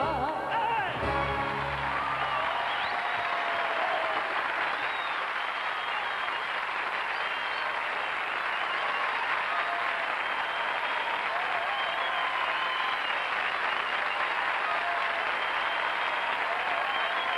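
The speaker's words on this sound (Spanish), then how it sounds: "un fuerte aplauso para ellos" Studio audience at a 1997 Spanish television talent show applauds loudly and steadily, a dense sustained clapping that fills the whole stretch without pause.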